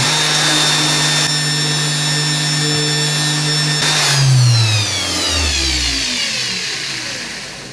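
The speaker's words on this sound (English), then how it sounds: "we'll push the stock, the brass part, against the face of the disc here in the vise" A motor-driven disc clamped in a vise keeps up a steady whine while brass stock for an Art Deco wall sconce is pressed against its face, and the pitch sags noticeably under the load before slowly recovering.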